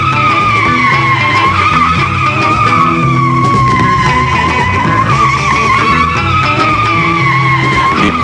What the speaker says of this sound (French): Les pneus qui virent dessous pour impressionner les petites filles, montrer qu'il y a du moteur